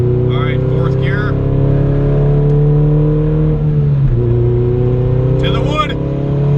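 A tuned Honda Civic with Hondata boost control pulls hard in fourth gear, its engine drone loud and close and rising steadily in pitch, with a brief dip in the middle and voices speaking over it.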